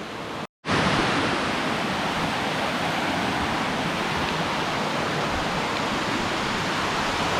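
Hidlumane Falls on the Kodachadri trek, a loud continuous rush of falling water heard up close, broken only by a brief cut near the start, with no voices over it.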